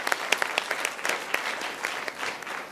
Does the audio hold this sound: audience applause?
yes